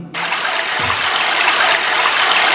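River water rushes in a loud, steady wash that starts abruptly and carries on without pause, close and unbroken.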